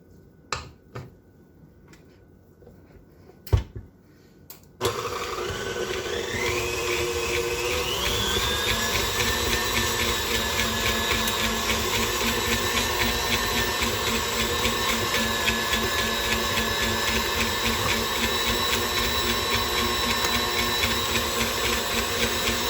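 An electric mixer beats butter for butter cookies, starting after a few clicks and taps, then running as a loud, steady whirring drone that stays constant to the end.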